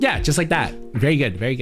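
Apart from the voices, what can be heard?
No everyday noises stand out.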